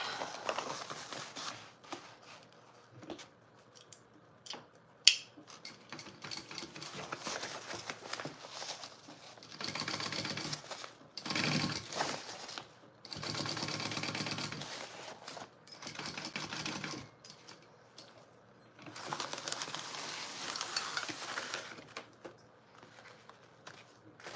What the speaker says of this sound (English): All right, so I am just going to sew up one side.